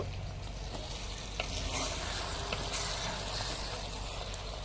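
Chicken curry with tomatoes simmers and fries in a pan, a dense, even sizzle and bubbling hiss with occasional faint stirring taps, heard alone.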